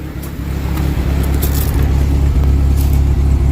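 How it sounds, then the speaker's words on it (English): A warmed-up 1969 Mustang "Truckstang" with newly installed ignition idling smoothly, a loud, close, steady low rumble with an even pulsing beat and no voices. "Got a good smooth idle."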